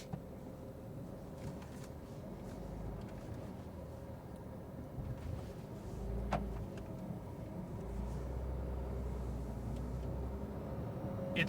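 A Porsche GT3 rolling slowly forward, with a low steady engine rumble and road noise from inside the cabin that swells slightly near the end, plus a brief click midway.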